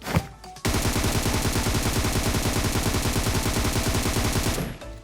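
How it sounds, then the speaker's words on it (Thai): Rapid automatic gunfire from a rifle in PUBG Mobile, fired without a laser sight, rattles out as one loud, dense, unbroken burst of about four seconds after a short pause. "เดี๋ยวผมจะลองยิงให้ดูนะครับถอดเลเซอร์ก่อน"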